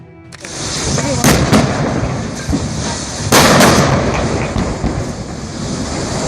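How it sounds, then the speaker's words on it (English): A tanker truck explodes on a road in Ya'an City, Sichuan, with loud blasts and a roaring rumble over heavy wind noise, sharp bursts breaking through a sustained fiery roar. "a tanker truck began emitting thick white smoke and exploded just minutes later, igniting 2 nearby trucks"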